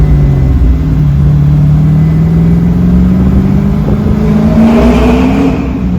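A 1968 Camaro's loud engine pulls steadily, pitch rising as it accelerates, with a gear change midway before revving up again.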